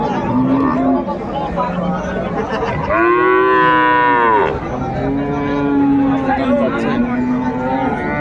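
Cattle at Ambari livestock market in Dinajpur moo loudly and close by, one long strong call in the middle with lower lowing around it, as people talk amid crowd chatter.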